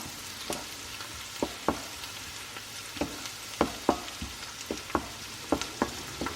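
Onion and kimchi frying in butter in a pan, a gentle steady sizzle punctuated by regular sharp taps and scrapes of a utensil stirring, close by with no talking.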